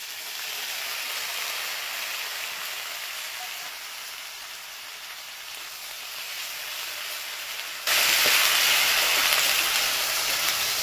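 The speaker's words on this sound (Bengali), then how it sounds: "এবার এটাকে ভালো করে ভেজে নেব।" Onions fry in a pan for a Dhaba-style kabuli chana dish, producing a continuous, dense sizzle that swells noticeably louder and brighter near the end, with no talking.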